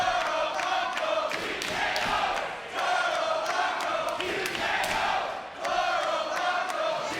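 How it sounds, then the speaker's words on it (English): A split wrestling crowd at a Ring of Honor Final Battle: Fallout 2018 match trades loud dueling chants back and forth, a dense, sustained roar of voices swelling and dipping in rhythmic waves. "The dueling chants"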